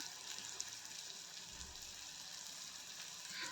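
Spices fry in oil for a parwal (pointed gourd) curry, giving a faint, steady sizzle with light crackle close by and no voices.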